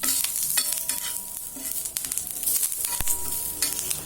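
Curry leaves crackle and sizzle in hot oil during tempering for a brinjal curd pachadi, with spoon stirring and scraping in the pan, heard close and continuous without any talking.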